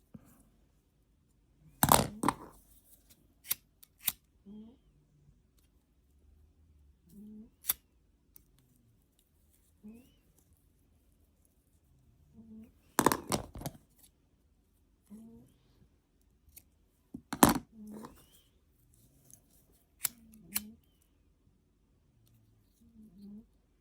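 Scissors snip through macramé cord on a small knot keychain, giving a few sharp close cuts spaced several seconds apart, with soft handling rustles in between.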